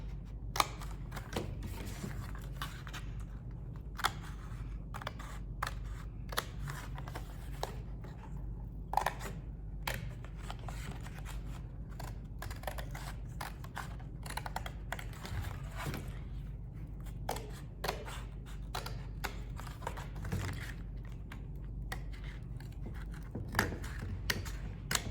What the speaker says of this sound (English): So I'm gonna take my scissors